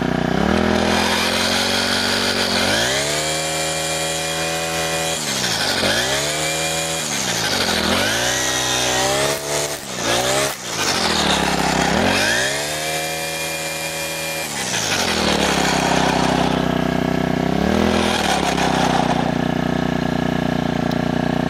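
GeoTech GT-4 36 BP four-stroke brush cutter engine run at full throttle, a loud, close, buzzing whine that rises and falls in repeated revs, briefly drops away, then climbs back up.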